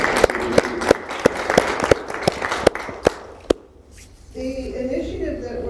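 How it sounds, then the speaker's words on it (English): A sparse round of clapping from a small symposium audience on translation and scholarship: a few distinct, evenly spaced claps for about three seconds, then quiet and a voice starting to speak. "Please, a round of applause for them"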